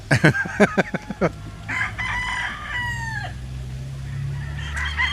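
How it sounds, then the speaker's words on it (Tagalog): A series of quick, sharp clucks from a nearby chicken, then a long drawn-out crow over a low background rumble. "may manok?"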